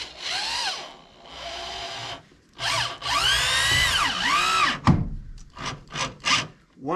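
A power drill drives treated decking screws into wood in a cabin setting, several whining bursts that rise and fall in pitch with short pauses between, close and loud with no talk.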